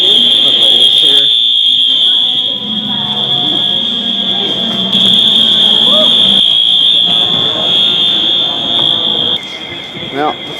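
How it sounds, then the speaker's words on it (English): A Wheelock fire alarm blares continuously at Hamilton Train Station, New Jersey, a loud, piercing steady tone with brief pauses, heard up close while people talk over it. "Fire alarm's still going off"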